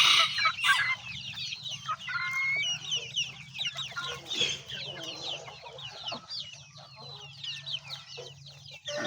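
Newly released chickens in a backyard farm, with repeated clucks, squawks and chatter from several birds close by, sometimes overlapping, over a low steady hum.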